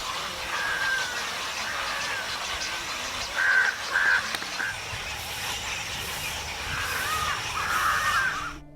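Birds call intermittently at a bird sanctuary over a steady outdoor rush, a few short harsh calls standing out at moderate distance.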